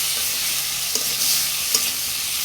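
Chopped tomatoes frying in oil over sliced onion for a Bengali fish curry, a steady close sizzle with two soft scrapes of a spatula against the pan.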